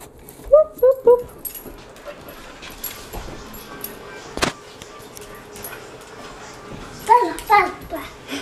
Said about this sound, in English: If you haven't noticed by now, we got a dog.